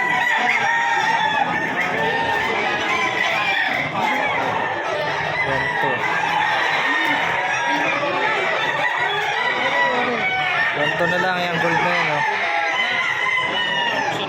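A crowd of gamefowl roosters and chickens at a market crow and cluck continuously in a dense, loud chorus, with a voice talking over the din.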